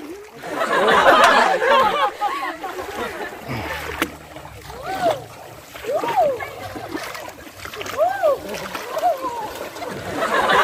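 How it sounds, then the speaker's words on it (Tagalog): A person swimming in the Ilog Kamalig river at a camping and picnic spot in Porac, with repeated close water splashes and sloshing while several people chatter and shout nearby throughout. "Lumalangoy si JM."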